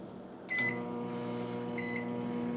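A microwave oven heating food: a low steady hum drones on and on, while two short clusters of high electronic beeps sound near the start and again a little later.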